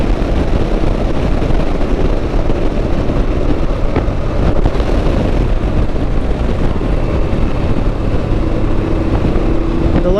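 A Honda Africa Twin motorcycle runs along the road in a steady, loud engine drone blended with wind rush, with short shifts in pitch as the rider downshifts while following a Ducati Multistrada.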